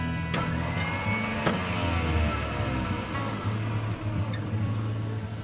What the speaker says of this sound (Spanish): yo le voy a dar arranque al auto. Y hace ese ruido.